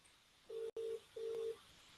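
Phone ringback tone on an outgoing call to an Irish mobile number, heard over a video conference: steady tone bursts, two close together and then a third after a short gap, moderately clear with no talk.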